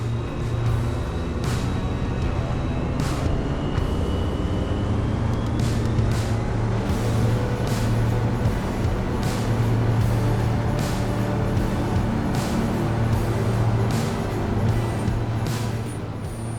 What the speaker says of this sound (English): You'll hear it in flight, it just got this really smooth turbine sound to it.